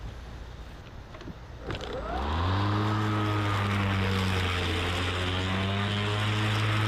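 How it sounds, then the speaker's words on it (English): An Atlas 80V battery lawn mower spins up and runs through overgrown grass and weeds, a steady, loud motor hum that rises from quiet and then holds near and constant. "Just definitely a great mower here."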